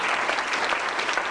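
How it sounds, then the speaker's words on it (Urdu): An audience at a poetry evening applauds a chief guest invited to the stage, with dense, loud, continuous clapping from a close crowd that holds steady throughout. "آپ کی زوردار تالیوں میں"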